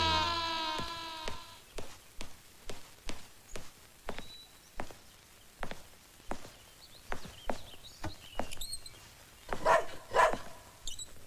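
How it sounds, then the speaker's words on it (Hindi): A dog barks inside a house in a steady series of sharp, evenly spaced barks, about one every half second, close and moderately loud. "ये रोमियो क्यों भौंक रहा है?"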